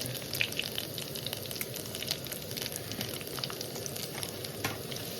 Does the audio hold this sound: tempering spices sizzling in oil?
yes